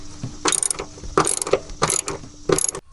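A ratchet on a short extension turns 14 mm nuts on a car's coilover mount, clicking in quick bursts of rapid pawl ticks with short pauses between strokes, close and alone.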